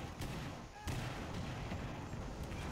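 Muffled blasts and thumps of grenade explosions in a Rainbow Six Siege team deathmatch on the Yacht map, rumbling dense and continuous amid gunfire.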